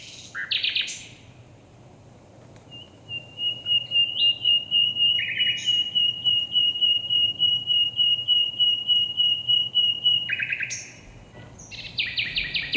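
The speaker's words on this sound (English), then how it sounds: "Just like these two nightingales." Two nightingales sing rival territorial songs where their territories meet, loud and close: a long sustained whistle runs through the middle, with sharp chirps and rapid trills on either side and nobody talking.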